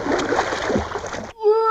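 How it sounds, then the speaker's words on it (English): A cartoon character plunging into a pond with a big, sustained watery splash and spray, followed by a brief squeaky voice-like tone at the end. "flew right off the slope and into the pond, landing with a huge splash"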